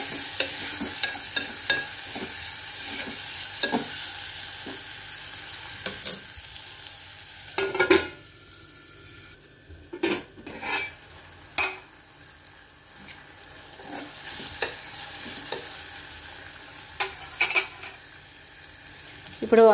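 Tomato pieces fry in a pan for an eggplant and green pea masala curry, a close sizzle broken by frequent sharp spatula scrapes and knocks against the pan, with no talking.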